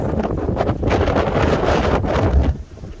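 Strong gusty wind of about 28 mph buffets a small fishing boat on Southampton Water at night, a loud, continuous roaring rush over the microphone that swells and eases in gusts.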